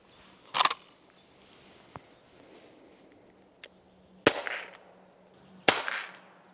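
Three sharp, loud shots from a JPX pepper gel launcher spaced a few seconds apart, each with a quick decaying tail, plus a couple of fainter clicks in between, in a quiet setting.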